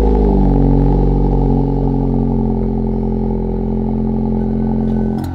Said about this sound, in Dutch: Voor een koude start en voor zeg maar een Volkswagen is het echt niet verkeerd.